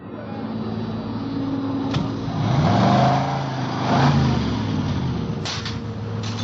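Radio-drama car wash effect at a gas station's ten-minute wash: a car engine idles and rumbles steadily, swelling briefly in the middle, with brief clanks near the end and no talking.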